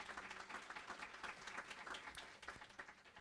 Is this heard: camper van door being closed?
no